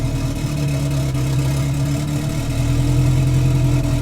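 A Mk2 car engine runs at a steady, even idle after an ECU swap to an EMU Black, a loud close drone with no revving.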